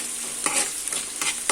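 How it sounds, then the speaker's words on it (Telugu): Ginger garlic paste frying in a pan and being stirred, a steady close sizzle broken by a few quick scraping stirs, with no voices. "అల్లం వెల్లుల్లి పేస్ట్ వేసుకొని పచ్చివాసన పోయేంత వరకు కలుపుకోవాలి"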